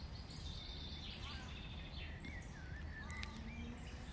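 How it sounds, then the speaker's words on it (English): Birds chirp and whistle in short, thin calls beside a lake, faint and somewhat distant over a steady low outdoor rumble. "just sitting at the lake, listening to the birds, listening to the sounds of nature."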